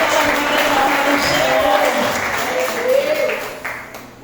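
A church congregation claps for the pastor as he is welcomed, a steady wash of applause running throughout with a voice and faint music carrying over it, fading slightly toward the end.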